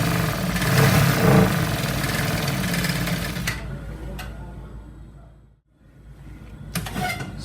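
A sewing machine stitching trouser fabric runs in a fast, steady mechanical whir for a few seconds, then stops, followed by faint clicks and light handling noises at close range.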